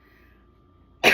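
A single sharp cough bursts out close by after a near-silent pause, short and throaty, like someone clearing their chest.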